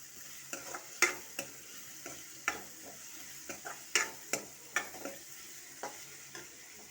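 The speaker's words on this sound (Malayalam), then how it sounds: "നമുക്കിതിനൊക്കെ നന്നായി വഴറ്റിയെടുക്കാം." Onions sautéing in a pan, a soft constant sizzle broken by about a dozen sharp spatula strokes and scrapes at an irregular stirring rhythm, close and fairly quiet with no talk.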